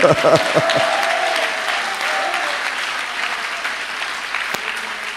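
A church congregation breaks into applause at a service, a dense sustained clapping that fades slightly over several seconds, with a voice speaking over it at the start.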